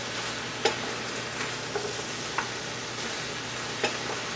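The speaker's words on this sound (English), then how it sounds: "Try to saute this stuff all in one pot" Vegan chow mein ingredients sauté together in a single pot rather than a wok, giving a continuous close sizzle with a handful of sharp utensil knocks against the pot.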